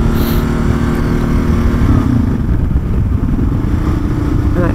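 Motorcycle engine as the rider rolls off the throttle, pulls the clutch and upshifts, a steady loud near drone that dips and settles into a new rhythm partway through, with no talk over it.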